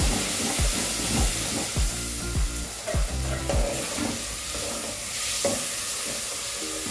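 Onions frying in a pan give a steady sizzle, with a string of scraping stirring strokes in the first few seconds before the sizzle carries on alone.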